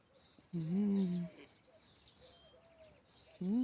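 Birds call outdoors on a cold, sunny morning, a few short warbling chirps and cooing notes in separate bursts, close and clear against a quiet background.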